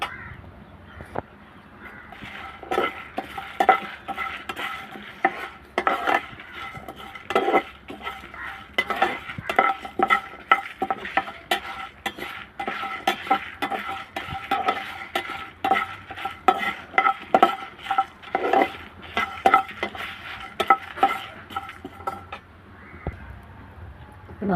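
Vegetables, including lady's finger, dry roasted in a pan, stirred with a spatula that scrapes and clinks against the metal in quick irregular strokes over a faint sizzle, close up and continuing for about twenty seconds.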